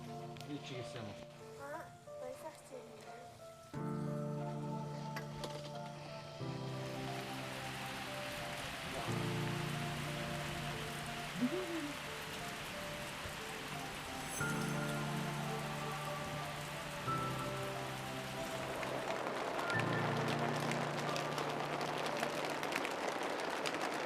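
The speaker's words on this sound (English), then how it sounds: "I love this rain." Steady rain falls in the Mongolian mountains, a dense, even hiss running throughout, while strong tonal music or voices with sustained harmonic layers sit on top in shifting blocks.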